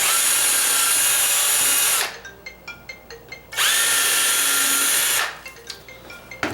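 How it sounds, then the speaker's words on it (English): A power drill pre-drilling wood for a deadbolt strike plate whines loudly in two long bursts, each followed by a stretch of quieter scraping and tapping against wood. "I got to pre-drill that out."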